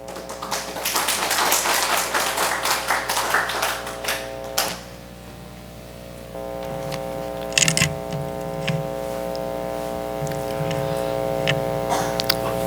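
A congregation at a Korean church service clapping to welcome a retired pastor, a busy patter that fades after about four seconds, leaving a steady electrical hum with a few scattered taps.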